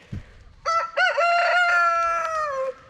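A rooster crows nearby on a farm, loud and drawn out, its call rising and then trailing off after a brief rustle.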